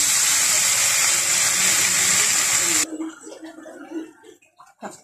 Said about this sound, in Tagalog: magigisa tayo ng pakbet